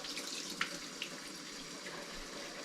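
Tap water runs steadily into a sink to rinse peppered meat being made into Canadian bacon, a soft continuous splashing flow with a couple of faint knocks and no talk.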